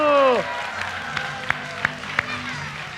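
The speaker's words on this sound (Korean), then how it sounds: "네, 박수!" Applause breaks out from a church audience at a Korean gospel magic concert, scattered claps rising after a brief spoken line and staying fairly light, with a few sharper claps standing out.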